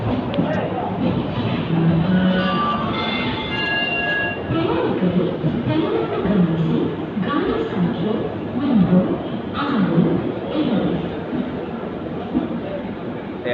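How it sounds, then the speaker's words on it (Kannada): The Panchaganga Express pulls into a station platform with a low, steady rumble of wheels and rolling carriages, faint squeals and a distant horn-like tone, under crowd chatter and announcements. "ಫೈನಲಾಗಿ ಟ್ರೈನ್ ಬಂದೇ ಬಿಡ್ರಿ."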